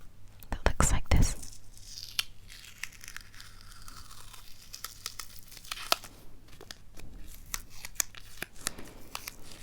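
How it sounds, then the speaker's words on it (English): Medical tape is handled close to the microphone in a quiet indoor setting, with a loud ripping tear near the start followed by soft crinkles, scratches and taps, while a voice speaks softly throughout. "And then I have some of this medical tape"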